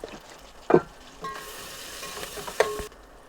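Chopped onions fry in oil in a pan with a low, close sizzle, punctuated by two sharp scrapes of a spoon against the pan, with no speech.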